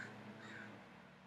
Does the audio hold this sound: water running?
no